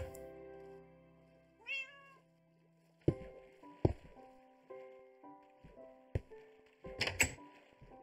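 A single cat meows in the video game Minecraft, a short rising and falling call near the start, followed by blocky game clicks and thuds over a steady background tone.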